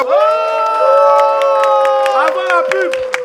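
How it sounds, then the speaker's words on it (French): A television studio audience cheers and claps loudly on request. Sustained shouting voices ring out over scattered sharp claps for a few seconds before they start to fade. "Je vais demander à tous les esprits qui sont ici d'applaudir très fort, s'il vous plaît."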